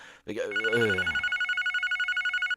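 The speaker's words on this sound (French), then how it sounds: "Il va avoir un son de téléphone tout le temps pour rien." A telephone rings over and over with a steady rapid electronic trill, close and insistent, as the caller keeps calling. A voice speaks briefly just before the ringing starts.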